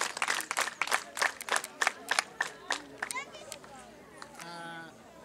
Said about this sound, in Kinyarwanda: Reka duhe amashyi ababyeyi bazanye abana n'urubyiruko rwitabiriye gahunda.